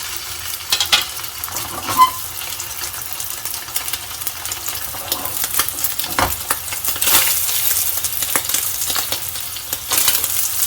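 Steak searing in a hot pan over high heat, a steady bright sizzle with scattered crackles and pops, close and loud, no talking.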